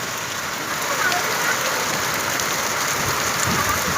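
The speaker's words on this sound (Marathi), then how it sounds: "खतरनाक असा पाऊस चालू झाला आमच्याकडं" Heavy first monsoon rain pouring in a thunderstorm, a dense steady hiss of drops hitting surfaces nearby, continuous and loud, with no speech.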